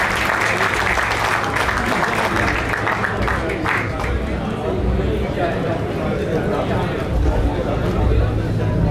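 A large audience at an international mushaira and kavi sammelan in Bahrain gives loud, continuous applause to welcome a poet on stage, dense clapping throughout with crowd noise and some voices underneath.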